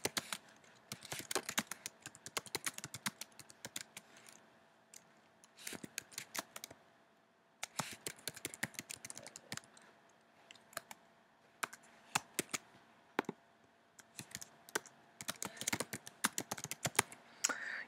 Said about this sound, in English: begin to just type in some text